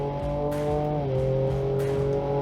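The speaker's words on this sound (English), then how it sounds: "The fact that you're getting a noise like this in a pickup truck is insane." The 3.0 V6 of a 2022 Ford Ranger Raptor pickup with a 10-speed automatic revs hard in a loud, sustained snarl, with a brief dip as the gears change partway through, close and with no speech.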